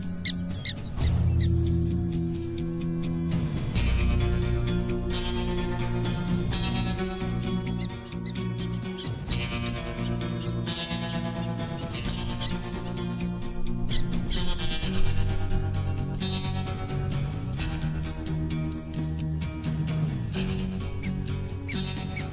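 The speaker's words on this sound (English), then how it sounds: "It's what "Look out, Rattler!" sounds like in prairie dog" A prairie dog gives an alarm call warning of a rattlesnake: repeated high, squeaky chirps that carry on steadily over a dense, continuous background.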